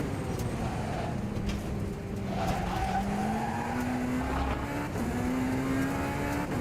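A race car in rFactor 2 drives through a chicane, its engine droning steadily while the pitch rises and dips through gear changes, with tire squeal and skidding running continuously underneath.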